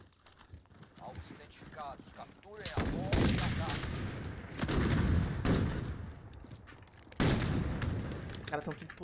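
Gunfire from an online shooter video game comes in loud bursts of rapid shots with sharp reports, separated by quieter stretches, while players talk throughout.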